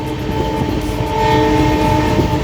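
A steady, loud rumble of a metro train at the Kanpur Metro depot, with a sustained tonal hum running through it, continuous throughout with no voices.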